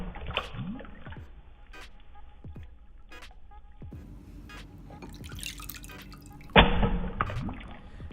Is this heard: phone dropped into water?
yes